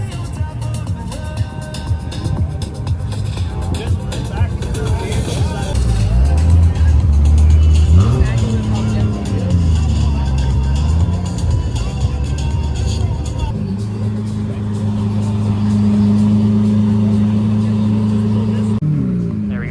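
Nissan R34 GTR M-Spec rolling in within the Forza Horizon game, an engine note rising and falling with revs, loud and steady throughout alongside background game sounds and talk.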